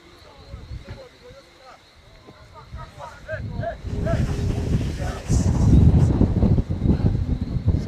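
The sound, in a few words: strong gusty wind on football pitch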